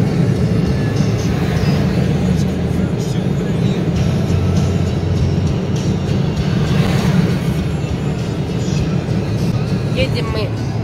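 A car driving on a road at about 120 km/h, with a constant loud rumble of engine and road noise from inside the cabin and someone talking over it.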